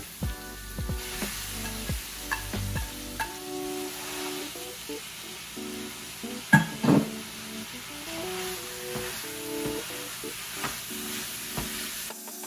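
Ground beef sizzles steadily in a hot pan for a healthy carrot spaghetti sauce, with scattered scrapes and clinks of a spoon stirring it, close and moderately loud with no talking.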